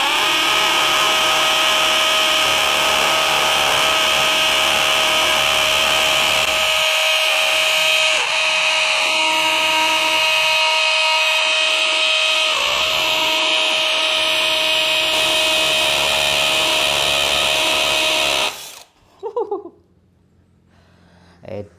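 A DeWalt DCD999N cordless brushless hammer drill bores into K350 concrete with stone inside, a loud, steady grinding hammer roar lasting nearly the whole stretch before stopping abruptly, followed by brief faint handling noise.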